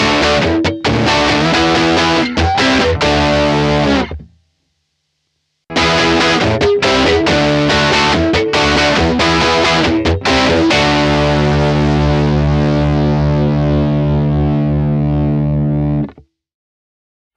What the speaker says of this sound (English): this is a really well done gate, so it really doesn't cut off the sound of your guitar, it just cuts down the noise